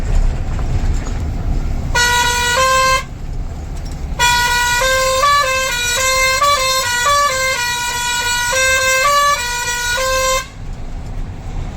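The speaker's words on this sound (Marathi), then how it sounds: "कसं वाजतंय हॉर्न आता नक्की कमेंट करा आज आपण नवीन हॉर्न बसवलेला आहे" A newly fitted musical truck horn blares in melodic bursts of rising and falling tones, a short phrase followed by a longer tune, over a low engine rumble.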